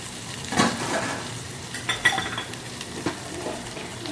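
Tomatoes being stirred and fried in a pan for dal khakhra, with a faint sizzle under irregular scraping and clinks of a utensil against the pan, a few sharper knocks standing out.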